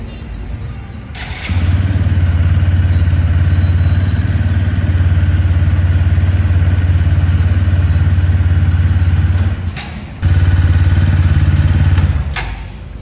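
A motorcycle with its side stand left down starts and runs with a loud low idle, then abruptly cuts out, fires up again briefly, and dies a second time.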